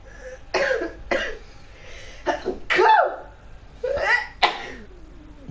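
A person sneezes and coughs in a quiet room, several sharp bursts at irregular intervals, close and fairly loud.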